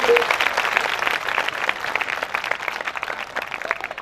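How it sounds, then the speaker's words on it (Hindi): A crowd claps at a public gathering in Palamau, Jharkhand, a moderate, somewhat thin patter of hands that keeps going steadily throughout, with a faint voice briefly audible at the start. "तालियां बजाओ यार"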